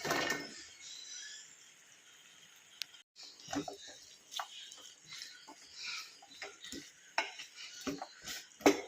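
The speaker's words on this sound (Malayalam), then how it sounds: "നല്ല പോലെ എല്ലാം ഒന്ന് ഇളക്കി കൂട്ടി വെക്കാം" Fried tuna is stirred into Kerala-style fish pickle in a pan, giving irregular scraping clinks of a spoon against metal, fairly close and moderately loud, alongside a speaking voice.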